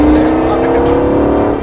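A race car on a circuit, heard close and loud from inside, holds a steady engine drone with shifting pitch as it brakes and accelerates; a voice speaks briefly over it.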